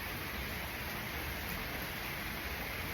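Steady, even hiss of rain falling at night outdoors, a constant wash of noise with no distinct drops standing out and no voices.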